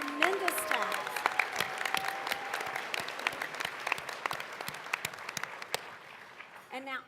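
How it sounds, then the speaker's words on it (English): An audience at the 2019 Lone Star P.E.T.S. evening session claps for the registrar, a dense, fairly distant patter of applause that runs throughout before tapering off, with brief voices near the start and end. "please give her a huge round of applause because that is a tremendous task."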